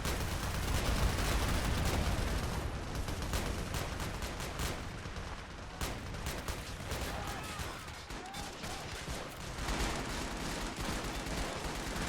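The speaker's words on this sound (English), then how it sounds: "Look at all the tracers, explosions, and bullet impacts." Dense battlefield din from the Men of War Assault Squad video game during a beach landing: continuous overlapping gunfire, machine-gun bursts and explosions with bullet impacts, loud and unbroken throughout.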